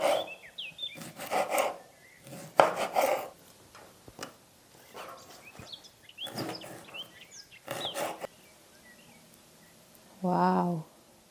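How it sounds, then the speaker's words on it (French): A knife slices tomatoes on a wooden cutting board in a countryside kitchen: several short, close rasping strokes come in irregular bursts, with quiet gaps between them and a brief voice near the end. "Je vais faire des petites tranches de tomates."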